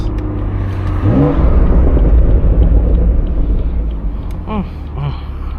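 A BMW 440i engine drones steadily while driving, with a loud low rumble and road noise throughout and a couple of brief rising revs, heard from inside the car.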